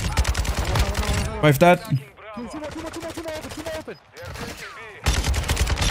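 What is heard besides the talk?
gunfire in a shooter video game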